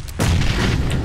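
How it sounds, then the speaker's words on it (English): A grenade detonates in the battle royale game PUBG as a single close, heavy boom with a rumbling low tail that lasts about a second. "Just litter the entire area with grenades."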